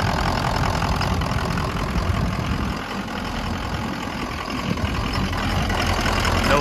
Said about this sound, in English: 2003 F350 Super Duty Lariat with the Power Stroke V8